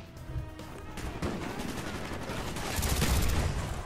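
AK rifle gunfire in Call of Duty: Black Ops multiplayer, a dense spray of rapid shots that builds slightly louder toward the end amid game noise, with no talk over it.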